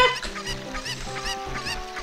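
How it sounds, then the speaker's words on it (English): Chicken clucking in the video game Ocarina of Time, a rapid series of short, close clucks repeating steadily over a couple of seconds with no talk. "Oh, look, a chicken."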